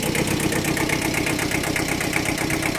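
A small, imported used Japanese two-cylinder 15-horsepower Kubota tractor idles up close, its engine chugging in a steady, even rhythmic pulse.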